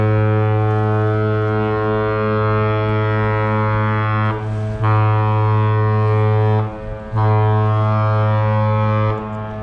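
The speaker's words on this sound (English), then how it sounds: "What you all just heard there is known as the captain's salute, which is a traditional greeting between the ships and the bridge." A horn blasts from the freighter Michipicoten arriving at Duluth, giving the captain's salute: a loud, steady low tone held for nearly ten seconds, broken by two brief gaps.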